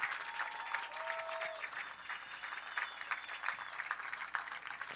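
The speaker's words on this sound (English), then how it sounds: "Big round of applause for FC Wichita" A stadium crowd applauds and cheers for the FC Wichita football team at a home match against Joplin, a steady, moderately distant wash of clapping lasting throughout with faint tonal sounds over it.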